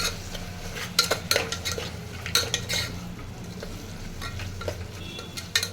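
Vegetables and whole spices such as cinnamon and cloves sauté in a pan, with a soft sizzle beneath repeated metal spoon scrapes and clinks, close up.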